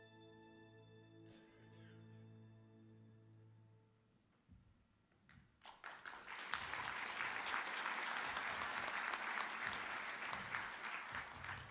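Applause at the 2015 INFORMS Franz Edelman awards gala for the finalists. Soft sustained music plays first, then a large audience bursts into loud, dense clapping that carries on steadily to the end.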